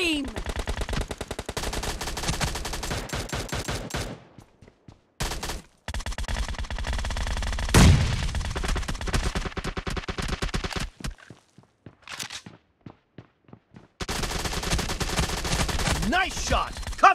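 Rapid bursts of gunfire rattle through a shooter video game, with machine-gun volleys and single shots cut by short pauses, loud and close throughout.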